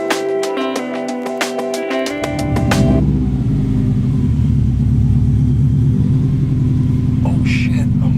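Car engine heard from inside while driving, after a stretch of tonal sounds, settling into a steady, loud low rumble for the rest of the clip.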